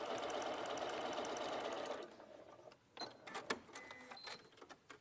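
Rapid, fast-rhythm whirring of a sewing machine stitching with a quarter inch foot, running steadily for about two seconds before stopping, followed by scattered small clicks and handling sounds, quiet and close.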